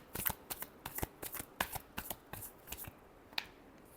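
Tarot cards are shuffled close up in quick bursts of papery riffles and soft slaps, irregular and fairly faint, with no talking.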